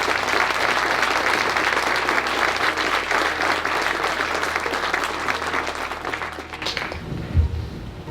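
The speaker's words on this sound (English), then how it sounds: "I would like everybody to give Shelley a round of applause." Audience applause at a Marine sergeant major's retirement ceremony, sustained loud clapping from a large crowd that fades out toward the end.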